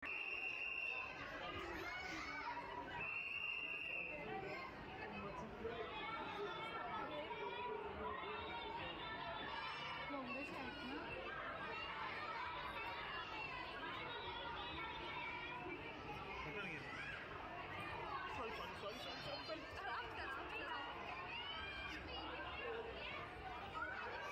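Dense crowd chatter fills a busy underwater fish exhibition in Mulund, with children's voices and general hubbub running steadily throughout at a constant, moderately loud level.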